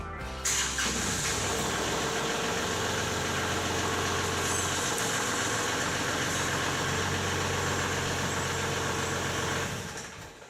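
A tractor engine starts with a brief crank, then settles into a steady, loud idle that runs unbroken for several seconds before cutting off.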